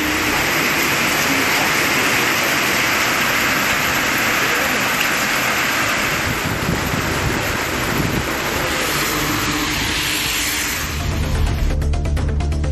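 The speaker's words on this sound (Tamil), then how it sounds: "பலத்த காற்றுடன் மழை பெய்தது" Heavy rain falls with strong wind, a loud, unbroken roar of downpour and gusts that fills the whole stretch at close range, with no one speaking.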